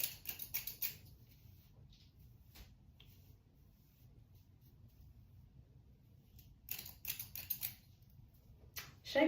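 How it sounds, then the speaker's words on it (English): Thinning shears snip through wig hair in short bursts of crisp clicking cuts, clustered at the start and again near the end, close and fairly quiet with a low background hum in between. "right now, by the way, I'm using my thinning shears"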